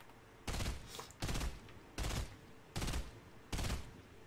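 Gunfire in the video game Fortnite, five short loud bursts of shots spaced about a second apart, sharp and close with quiet gaps between them.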